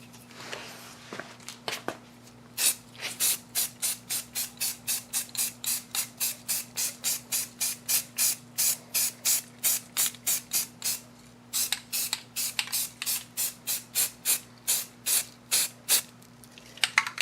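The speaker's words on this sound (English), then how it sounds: "I'm going to go ahead and do a light spray of some primer sealer." Rust-Oleum primer sealer sprays from an aerosol can onto a 2001 Lexus IS300 dash part in rapid, evenly spaced short hissing bursts, close and loud, with a brief pause midway and no speech.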